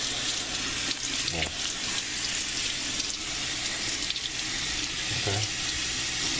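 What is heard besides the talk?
tap water running while rinsing a fish tank filter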